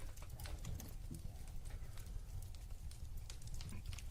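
Horse hooves clip-clopping in a steady, busy rhythm, fairly close and continuous, layered with crackling fire ambience and no talk.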